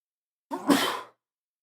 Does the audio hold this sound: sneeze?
yes